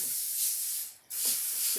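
Two bursts of cooking spray hiss onto foil, close and steady, separated by a brief pause, with a short pump sound at the start of each burst.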